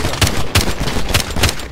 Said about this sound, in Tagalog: nagbabarilan na sila.